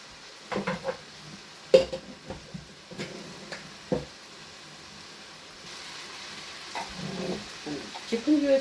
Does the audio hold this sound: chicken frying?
yes